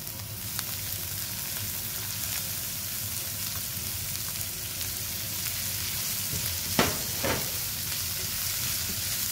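Chopped onions and roughly chopped garlic fry in a pan with a steady, fairly loud broad sizzle. A few stirring scrapes stand out near the end.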